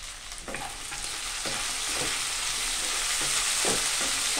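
Salted vegetables for fried rice sizzle in a pan with a constant bright hiss, while a spatula stirs them in several distinct scraping strokes up close.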